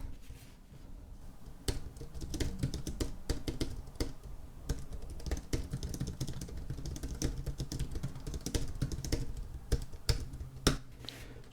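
Close, steady typing on a Zexxivop Hualala K303 wireless keyboard, an Apple Wireless Keyboard clone, with quick irregular key taps running throughout and a few sharper clacks standing out.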